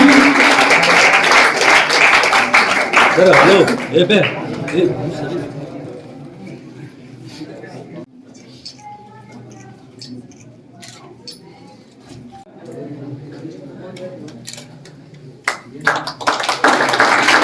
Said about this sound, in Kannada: ಎಲ್ಲರೂ ಜೋರಾದ ಚಪ್ಪಾಳೆಯೊಂದಿಗೆ ಕಾರ್ಯಕ್ರಮವನ್ನ